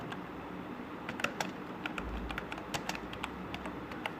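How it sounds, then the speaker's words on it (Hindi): Steady typing on a computer keyboard while entering a channel name for a website layout, a run of quick, light key clicks at an even, close-up rhythm with no talking. "मैं यहाँ पे लिखता हूँ अपने चैनल का नाम"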